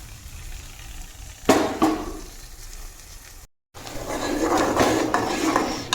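Sizzling and frying in a pot as ground masala is sautéed, with clattering utensil scrapes and stirring, a couple of sharp knocks early on, then steady hissing after a brief gap.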